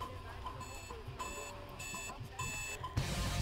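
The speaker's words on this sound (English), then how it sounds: "Somebody's alarm clock going off?" An alarm clock rings in the video game Paranoia, beeping in four repeated bursts of shrill tones over background game noise before a rougher sound cuts in at the end.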